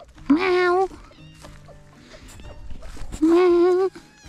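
On a farm by the hens' nesting boxes, a female cat gives two short meows about three seconds apart. A person talks quietly in the gap between them.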